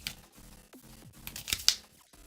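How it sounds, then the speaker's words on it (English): A deck of Battle Spirits trading cards being hand shuffled, with soft papery slides and light taps in an irregular rhythm, close and quiet without speech. "I'm just hand shuffling over here."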